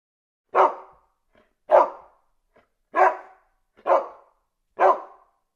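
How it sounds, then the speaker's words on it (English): A dog barks five times alone, each bark loud, close and evenly spaced about a second apart with silence between. "Dog."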